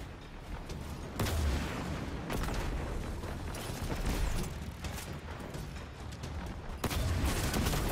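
Gunfire in Destiny 2's Gambit mode, with sustained, dense bursts of shots and booms at a steady high level across the whole stretch, punctuated by a few heavier blasts.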